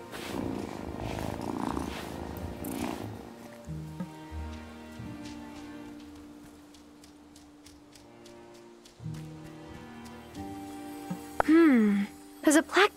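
A cat purrs in the video game Wylde Flowers, a soft rhythmic rumble that runs under light rain and gentle musical tones, while a voice talks briefly near the end.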